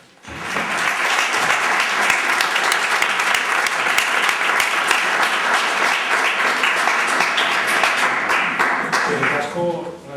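A hall audience at the Artea Oinez 19 opening ceremony in Tudela applauds the town's mayor before he speaks. The clapping is dense, loud and steady for about ten seconds, then tapers off at the end.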